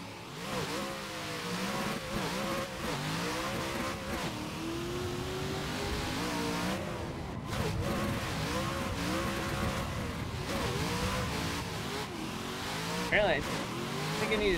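A drift car's engine revs hard and high through the rev range during tandem drifting, holding a loud sustained drone with brief tire squeal, while someone talks over it throughout.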